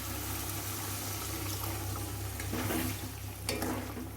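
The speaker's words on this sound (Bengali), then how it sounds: "এবার আমি এর মধ্যে দিয়ে দেবো যে চিকেন স্টকটা আমি আলাদা করে রেখেছিলাম, চিকেন সেদ্ধ করার যে জলটা," Chicken stock is poured into a sizzling pan of chicken bharta, giving a steady frying hiss with liquid splashing in and a few louder spatters toward the end, with no voices.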